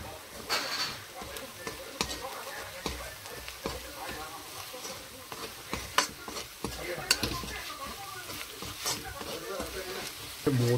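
Coriander powder sizzles and fries in a pan while a spoon stirs it, giving a constant crackling hiss with scraping knocks throughout, and a person talks over the cooking.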